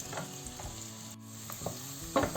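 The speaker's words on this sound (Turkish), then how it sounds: "bir 1-2 dakika kadar kavurmaya devam edelim" Steady sizzling of carrots and leeks sautéing in a pot, with occasional stirring scrapes and clinks breaking through the continuous hiss.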